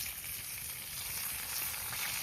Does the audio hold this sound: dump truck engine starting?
no